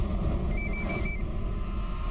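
A telephone rings once in a dramatized crime scene, a short bright electronic trill lasting under a second over a steady low rumble, with no voices.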